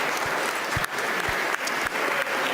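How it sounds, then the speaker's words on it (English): Sustained audience applause at a Las Vegas chess and NBA event as player De'Anthony Melton is introduced, even steady clapping with a few faint low thumps. "Please give him a round of applause"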